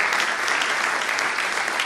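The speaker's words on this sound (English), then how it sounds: "So for this, really, we want a clap because he and his family have always been there." An audience applauds at an opening ceremony event for the Masri Institute: dense, steady clapping from many hands that fills the whole short stretch at an even level, with no talk over it.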